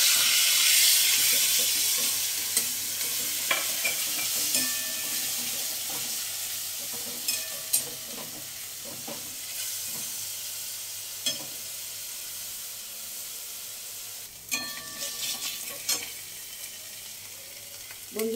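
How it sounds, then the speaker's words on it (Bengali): Onion paste frying in a pan gives a steady sizzle throughout, with a spoon scraping and stirring in scattered strokes and a louder bout of stirring near the end. "এবার দিয়ে দেবো পেঁয়াজ বাটা।"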